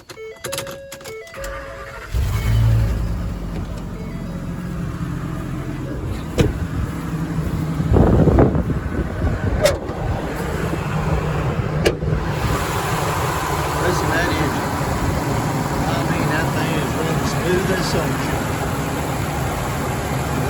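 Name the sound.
V-10 gas truck engine starting and idling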